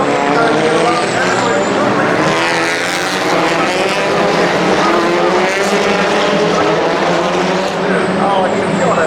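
TCR race cars, among them a Cupra, race side by side at the Norisring street circuit, a loud, sustained engine roar close by with revs rising and falling, under continuous commentary.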